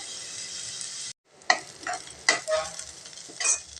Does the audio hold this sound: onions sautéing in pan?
yes